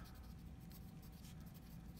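Marker or pen writing steadily on a board during a physics lesson, soft continuous scratchy strokes with small squeaky accents, close but quiet.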